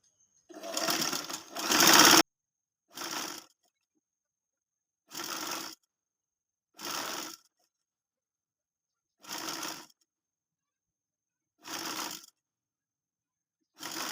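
Sewing machine stitching dori piping, running in eight short bursts spread across the clip, the first two longer and louder, the rest even and evenly spaced with silent gaps between them.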